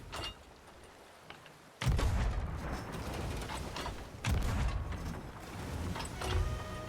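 Ship cannons fire in a naval sailing video game, two or three loud booming shots with rumbling tails breaking over quieter sea and deck ambience.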